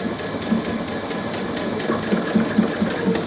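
Sewing machine stitching steadily back and forth over a rubber band while a hair towel is sewn, a close, even mechanical whir with a fast rhythmic needle patter and no talk.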